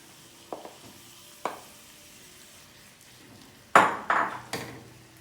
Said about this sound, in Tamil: இப்போ நம்ம அரைச்சி எடுத்துருக்கிற பாதாம் பேஸ்ட்டை இந்த பாலில் சேர்த்துக்குவோம்